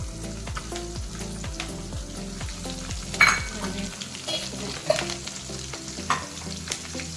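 Curry leaves and finely chopped green chillies fry in a pan for a flour dish, a steady close sizzle with soft stirring scrapes and a few sharp spatters, no voices.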